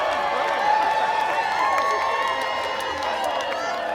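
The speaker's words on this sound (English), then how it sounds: "The crowd erupts." A crowd cheers loudly and continuously at a bike derby at the Kensington Derby & Arts Festival, a dense roar of voices and shouts filling the whole moment close up.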